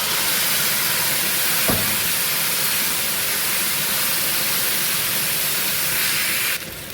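Loud, steady hiss and crackle of a tempering spluttering in hot oil for a Telugu-style cooking dish, a dense broadband roar lasting throughout with one sharp pop, then cutting slightly quieter near the end as the heat is switched off.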